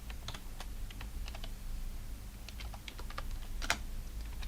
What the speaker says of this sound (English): we type in select